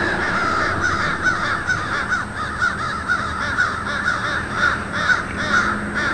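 A crow caws repeatedly and fairly close, giving loud harsh calls in a steady rhythm over a constant noisy background.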